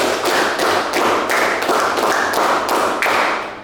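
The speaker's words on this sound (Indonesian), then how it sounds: "tepuk tangan 2, tepuk tangan 3, tepuk tangan 4, tepuk tangan 5" Hands clapping in unison in a classroom, around eight sharp claps in a quick, even rhythm, loud and close, with no one talking.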